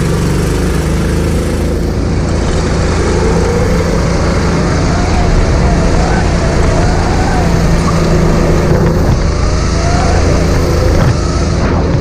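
Go-kart engine accelerating on the Lohéac kart track, a loud, continuous buzzing motor roar that rises and shifts in pitch, close and steady throughout, with other engine noise mixed in.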